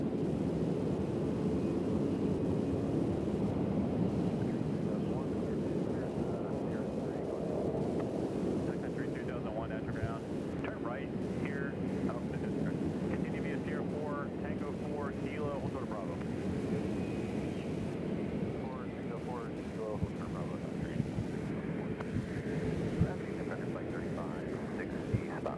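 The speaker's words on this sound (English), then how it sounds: "So Prime Air is going to have to do the long taxi." A Prime Air cargo plane taxis at Nashville International Airport, its engines a steady low rumble with a whining tone, heard through wind noise on the microphone while a voice talks over it.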